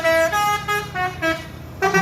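An executive bus sounds its musical multi-tone horn while passing, several loud, close honks with a brief gap and a final blast, over road engine rumble.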